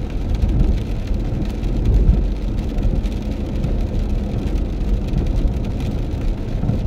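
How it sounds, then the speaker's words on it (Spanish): Light rain falls on pavement with puddles along a road in Coahuila, a dense steady low patter and hiss close by, no talking, with a deep rumble underneath that may come from a car. "No está lloviendo muy fuerte, pero sí ya hay charquitos en el pavimento."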